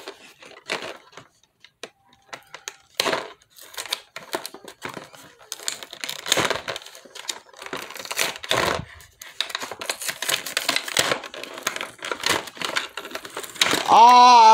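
Someone wrestles with glued-on plastic toy packaging for a Spin Master Solomon Grundy figure, producing irregular crinkling, crackling and tearing bursts, close and fairly loud, with brief pauses between efforts.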